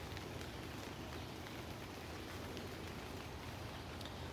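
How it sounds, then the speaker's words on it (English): Steady rain falls across a backyard garden with flowerbeds and hostas, a dense even hiss of drops pattering on leaves and surfaces, continuous and without talk. "It is actually raining right now"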